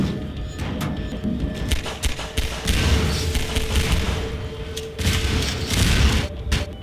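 Explosions in the video game Half-Life 2: heavy booms and thuds rumble continuously with sharp cracking bursts and debris taps scattered throughout, loud and dense with no talking over them.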